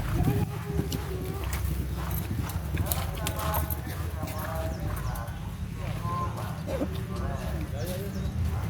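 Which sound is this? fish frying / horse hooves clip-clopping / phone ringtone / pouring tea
horse hooves clip-clopping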